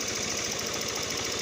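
A starter motor turns with a steady, rapid mechanical whirring and knocking rhythm, close and even throughout the short stretch.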